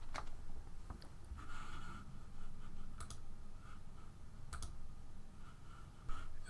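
A computer mouse clicks several times, faint and sharp, at irregular intervals over a quiet room hum while filling in areas in Photoshop Elements.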